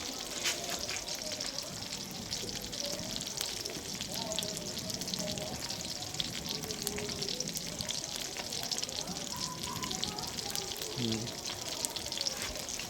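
Fish frying in a pan of oil at a rural home cooking setting, a steady close sizzle and crackle throughout, with occasional clinks and faint voices under it.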